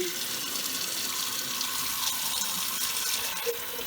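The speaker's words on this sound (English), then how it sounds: "After you soak this one for 24 hours, you drain the mung beans, wash it again" Tap water runs steadily into a sink or bowl of soaked mung beans as they are rinsed, a continuous close splashing rush with no voices.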